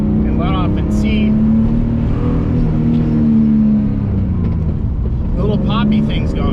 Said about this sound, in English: I'm just going to bring it up to a higher RPM at a low speed and let off and see.